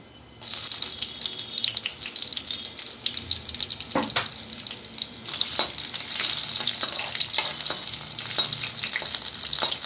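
Cashews frying in a pan of hot oil, a bright steady sizzle that starts abruptly and holds, with a few scattered clinks and scrapes of stirring, close-up and without voices.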